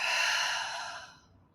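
A single deep, breathy exhale during guided meditation breathing: a close, steady rush of air that slowly fades away over about a second and a half, with no talking.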